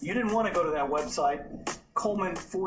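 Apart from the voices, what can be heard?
No distinct noise like a dog, phone or traffic.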